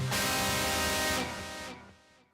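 Guitar played through the filter block of a Fractal FM9 modeler at untweaked default settings, giving a loud sustained chord with a buzzy, bright filtered tone that drops back and fades out over about two seconds.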